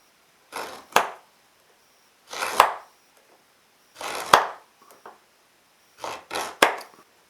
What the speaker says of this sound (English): knife directly into that little mark I've just made. And we can cut that in